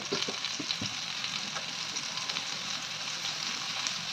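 Prawns frying in hot oil in a pan over a low flame, a steady close sizzle with a few sharper pops and crackles near the start, continuous throughout with no voices.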